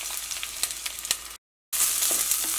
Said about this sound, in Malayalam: ഇനി ഇതിലേക്ക് നമ്മൾ കട്ട് ചെയ്ത് വെച്ചേക്കുന്ന സവോള, ഇഞ്ചി, പച്ചമുളക് ചേർക്കാം